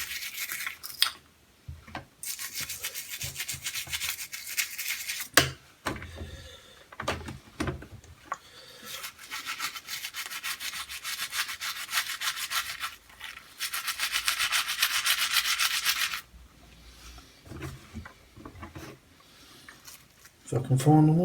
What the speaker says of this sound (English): we're going to put our plastic parts into some washing up liquid